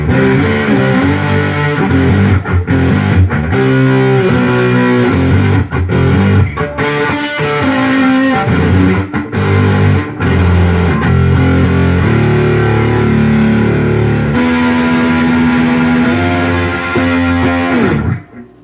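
Electric guitar played through a Pro Co RAT2 distortion pedal with distortion set at 12 o'clock: a loud, saturated, crunchy tone in continuous riffs and sustained chords for nearly twenty seconds, with no talk.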